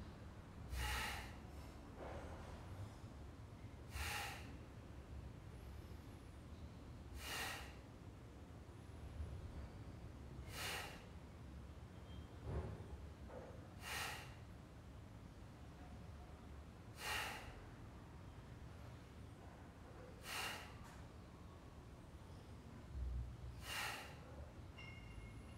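Forceful nasal exhalations in a yoga breathing exercise, about ten sharp bursts spaced evenly a few seconds apart over a quiet room background, with no talking.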